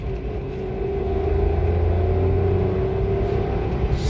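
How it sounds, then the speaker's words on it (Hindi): A 2021 Wagon R CNG car accelerates from a standstill, its engine droning loud and close with a steady hum that slowly climbs in pitch, and no talking. "इसको हम 0 to 100 करके देखते हैं कि 0 to 100 में गाड़ी कितनी जल्दी जाती है।"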